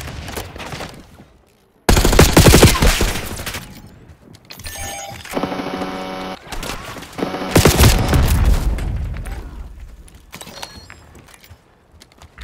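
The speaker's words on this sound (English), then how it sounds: "Flashbang out." Flashbang blast and bursts of gunfire in Call of Duty Cold War, with loud broadband explosive hits and rapid shots, a sharp onset around two seconds, then several further loud bursts and shorter cracks through the rest of the clip.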